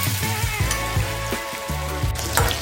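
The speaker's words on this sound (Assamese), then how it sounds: "আমি ইয়াতে চিকেনখিনি ফ্ৰাই কৰি লওঁ" Chicken pakora frying in a pan of oil crackles and sizzles close up, with bubbling pops and periodic stirring knocks in an uneven rhythm.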